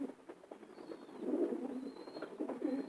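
A long-distance racing pigeon of the Sztol line coos softly in repeated low rolling phrases, close by, with faint chirps above.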